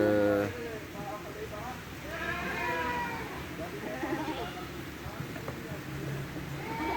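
A herd of goats bleats repeatedly while crowding the feeding trough for dry lucerne, several overlapping calls near and far over rustling farmyard noise, with a person talking.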